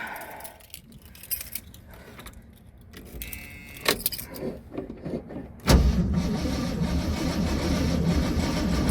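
A 1979 AMC Spirit AMX with a 304 engine: keys jingle and click in the ignition, then the engine cranks and catches with a sudden burst and settles into a steady, close idle.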